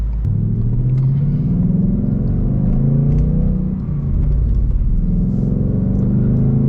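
A Ford Mustang GT heading out toward the highway, a loud, steady low engine rumble and road drone from inside the car with a brief dip midway.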